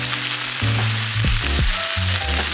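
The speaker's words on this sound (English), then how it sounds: "that's what you call a sear." A Japanese A5 wagyu steak searing in a hot pan after about two minutes on the first side, a loud, continuous close sizzle with a low hum underneath.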